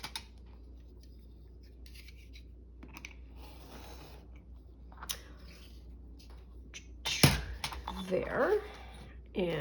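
Scissors trim the top of a junk journal page, with soft scattered snips and paper rustling close by, then a louder crinkle and handling noise toward the end under a low background hum.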